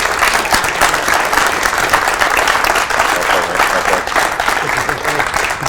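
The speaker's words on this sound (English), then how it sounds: "round of applause from Derbyshire, Jack Whelan" Sustained audience applause fills the hall at an IPA world pool championship in the Magna Centre, Rotherham, a dense steady wash of clapping that stays loud and even throughout without letting up.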